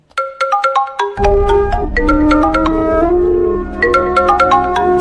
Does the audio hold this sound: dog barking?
no